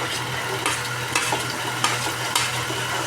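Ginger, chillies and onions frying in a pan with steady sizzle, while a spoon stirs and scrapes in a few sharp strokes over a low hum.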